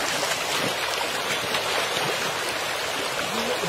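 Stream water flowing steadily, a continuous close rushing and gurgling with no breaks.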